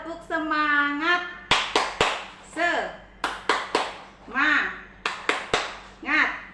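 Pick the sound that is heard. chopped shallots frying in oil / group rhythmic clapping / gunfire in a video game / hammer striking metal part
group rhythmic clapping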